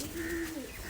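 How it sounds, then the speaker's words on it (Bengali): A Madrasi pigeon kept in a cage gives a single soft, drawn-out coo, faint and close against a quiet background, with no voices. "হ্যাঁ, ওই দুইটাতেও খাঁচাতে কবুতর সবগুলাতে পরিপূর্ণ আছে।"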